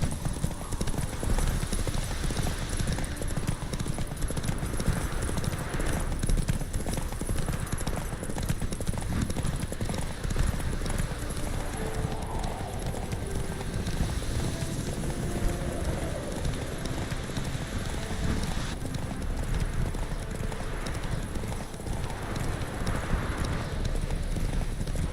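Roach the horse galloping in The Witcher 3, hooves pounding in a fast, continuous rhythm over a thick wash of wind and rushing noise, with a faint whinny partway through.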